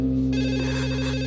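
A telephone in an Indonesian TV drama scene rings steadily and loudly, its tone continuous and unbroken through the whole short stretch, with no talking over it.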